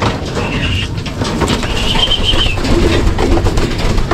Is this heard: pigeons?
yes